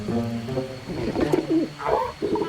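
A dodo-like bird from the video game Monster Hunter World calls near the camp, giving a few soft cooing, warbling notes over steady game ambience with no speech.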